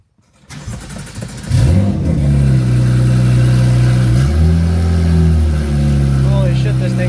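Single-turbo BMW F80 M3 with no exhaust fitted, cranking over and firing up after a short start, then a loud raw idle with blips of revving, close by, while a person talks over it.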